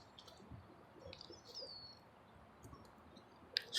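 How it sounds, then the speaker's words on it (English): Birds chirping outdoors among oak trees on a sunny day, a few faint, scattered tweets and calls over a soft background rumble, with a brief louder noise at the end. "chirping birds"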